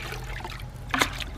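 Water trickles and splashes softly while possum hides are rinsed in clean water, a faint continuous dribble with a brief louder splash near the end.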